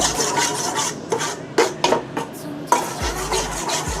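Salt dry-roasting in a pan for pork belly palo, a steady gritty scraping and rasping as it is stirred, with short bursts of harsher strokes and a low clank near the end.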